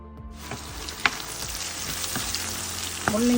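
Radish and coriander leaves sauté in a hot pan with a steady close sizzle and crackle, a few sharp stirring clicks, and a rising hiss near the end.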